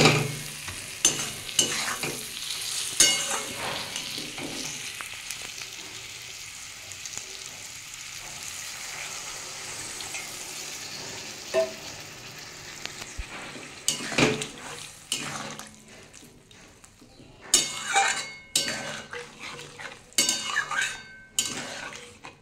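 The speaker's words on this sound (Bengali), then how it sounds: "আমি এবার একটু পটলটা, ভাজা পটলটা দিয়ে একটু নাড়িয়ে একটু সামান্য জল দিয়ে দেবো।" Fried pointed gourd being stirred in a pan with a utensil while a little water is added, giving soft sizzling and scraping with intermittent clinks of the spoon against the pan.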